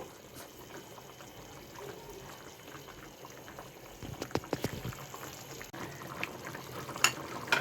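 Mustard fish curry simmers in a pan, a soft steady bubbling that grows a little livelier with occasional popping bubbles, no talking.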